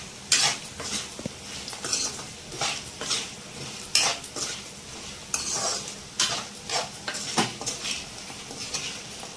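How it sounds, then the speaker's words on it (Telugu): Potato fry with chili powder sizzles in a pan while a utensil stirs and scrapes it, making repeated close metallic clinks and scrapes over a steady frying hiss. "మీరు ఎంత తినగలరో అంత వేసుకొని మళ్ళీ 2 నిమిషాలు ఫ్రై చేసుకుందాం"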